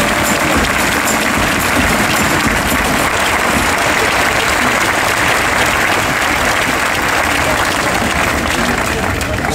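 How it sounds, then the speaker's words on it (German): A crowd at an SPD panel discussion gives general secretary Lars Klingbeil a big round of applause: dense, loud, continuous clapping that fills the whole stretch without letting up. "einen großen Applaus bitte an unseren Generalsekretär Lars Klingbeil"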